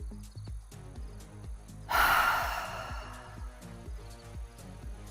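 A single deep breath is drawn in and let out during a breathing exercise, heard as one loud airy exhale over soft background music.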